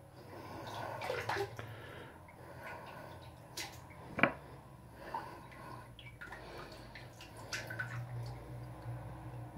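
Shaving brushes are dropped and dipped into water, giving soft splashes, drips and squishy sloshing, faint and close, with a sharper splash midway.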